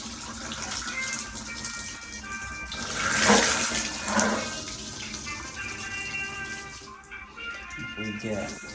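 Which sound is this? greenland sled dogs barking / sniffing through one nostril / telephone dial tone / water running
water running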